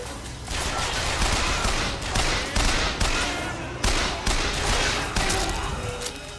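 Rapid bursts of gunfire while shooting enemies in the video game Bioshock Infinite, loud and close, with repeated volleys and brief gaps between them.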